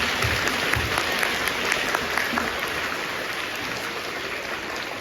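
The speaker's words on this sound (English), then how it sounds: "Let's clap for them." Children at a junior school assembly clap together in a dense, even patter that eases slightly toward the end, with a faint low rumble beneath.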